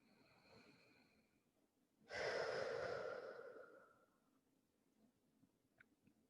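Slow, deep breath during a yoga session: a single long, airy exhale swells suddenly and fades over about two seconds, close and fairly quiet, with soft room hush around it.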